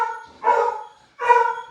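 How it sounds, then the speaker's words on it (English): Household dogs let out two separate yelping barks with a gap between them, close by and moderately loud, with no talking. "Pardon my dogs."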